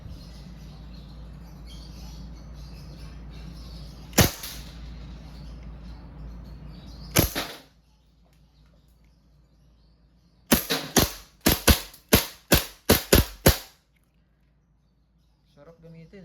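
A silver WE M92 full-metal gas blowback airsoft pistol fires on semi-automatic: two separate sharp cracks, then a quick string of about eight shots in a row, loud and close.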